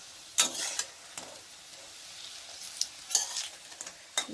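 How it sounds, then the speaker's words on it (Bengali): Bitter gourd fries gently in oil over a low flame, giving a soft, quiet sizzle broken by a few brief bursts of crackling and faint utensil clinks, close by with no voices. "একটু কম লো ফ্লেমে ভাজতে হবে, বেশি জোরে দিলে পুড়ে যাবে।"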